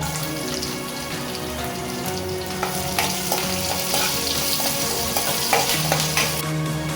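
Crushed garlic and curry leaves frying in oil for a ridge gourd stir-fry, a steady close sizzle throughout with intermittent crackles, pops and light stirring clicks, no one speaking.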